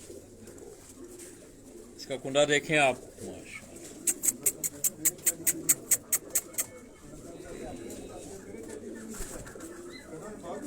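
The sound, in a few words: pigeons cooing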